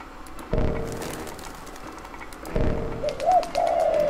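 Pigeons coo in the Jazzpunk video game, two soft low coos about two seconds apart, the second one rising into a warbling call, close and clear with no talking.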